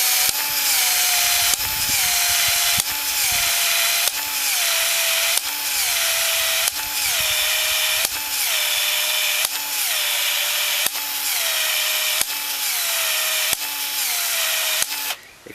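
A Milwaukee PEX expansion tool expands a PEX ring in repeated cycles, about eleven motor bursts each ending in a falling whine and sharp click, evenly spaced, close and loud.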